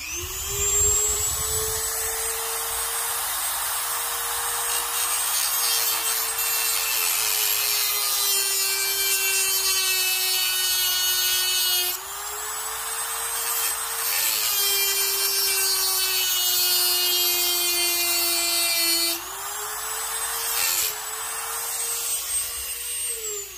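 Dremel EZ Lock cut-off wheel (EZ456) cutting a slot into a screw, giving a loud, steady, high-pitched grinding whine that holds for over twenty seconds, its pitch dipping briefly twice as the wheel bites, close and alone.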